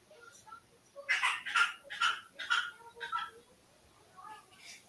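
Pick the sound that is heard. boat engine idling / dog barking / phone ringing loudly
dog barking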